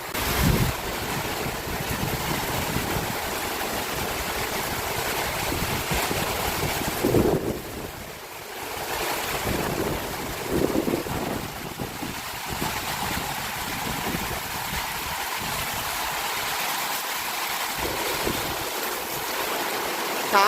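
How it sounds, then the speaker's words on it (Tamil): Cyclone storm in Valvettithurai, Jaffna, Sri Lanka: a steady roar of wind and rain blows across the microphone throughout, with brief dips and gusts and no one speaking. "ஆனால் கொஞ்சம் மழை பெய்யுது"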